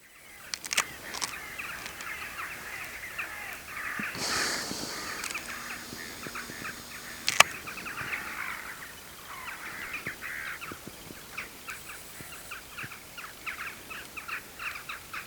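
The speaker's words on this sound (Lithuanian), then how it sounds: "Varnas prikolinasi." A crow caws repeatedly outdoors on a fishing outing, its harsh calls coming in irregular bursts at moderate distance against a quiet background.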